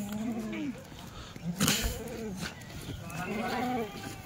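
Kathiawadi goats from Gujarat bleat in a farm shed. Two wavering bleats sound close by, separated by a brief knock.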